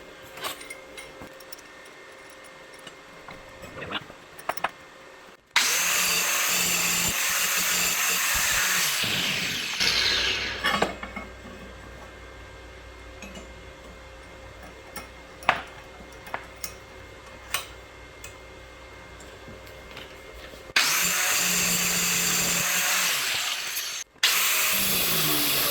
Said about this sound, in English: That angle grinder just does such a good job.